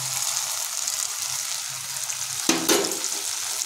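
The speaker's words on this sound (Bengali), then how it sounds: "এটাকে আমরা আরও মিনিট 2 লো ফ্লেমে এভাবে কষিয়ে নেব" Cashew and melon seed paste sizzles steadily in a hot kadai over a low flame while being stir-fried, with a brief louder scrape of stirring near the end.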